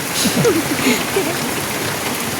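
Storm rain falls steadily in a soft, even hiss, with faint voices murmuring underneath.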